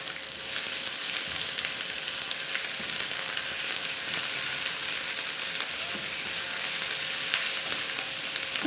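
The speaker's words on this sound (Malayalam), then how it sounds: "ഇഞ്ചിയും വെളുത്തുള്ളിയും പച്ചമുളകും ആദ്യം ചേർത്ത് നന്നായിട്ടൊന്ന് വഴറ്റിയെടുക്കാം" Chopped ginger, garlic and green chili saute in a pan for a clam roast, giving a steady, close hissing sizzle with faint stirring scrapes throughout and no talking.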